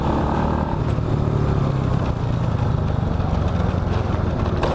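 A 2005 Suzuki Supra Fit motorcycle engine hums steadily while riding, a constant loud drone mixed with wind noise, with no speech.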